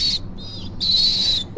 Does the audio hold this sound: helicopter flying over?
no